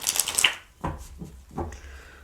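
Tarot cards are shuffled by hand in a few quick, crisp bursts: a riffling flurry at the start, then three separate shorter shuffles with brief pauses between them, close and clear.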